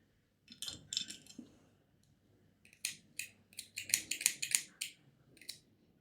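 Scissors snip crochet thread in a scattered series of sharp, crisp, close cuts with short pauses between them, quiet overall.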